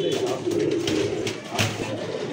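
Gazi Modern pigeons coo at a pigeon market, a steady low murmuring coo continuing throughout against a busy background, with faint crowd chatter.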